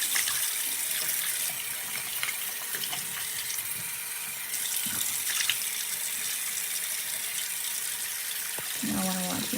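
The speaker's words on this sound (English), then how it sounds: "All right, I'm gonna wash this off." Tap water runs steadily into a sink as someone washes off, a continuous soft gushing and splashing that stays fairly quiet throughout, with small bursts of splash near the end.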